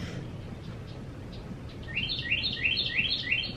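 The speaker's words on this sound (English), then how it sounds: "Why does it sound like there's a bird in my house?" A small bird just outside a back door chirps a quick run of bright, repeated tweets, faint and a little distant over a low background hum.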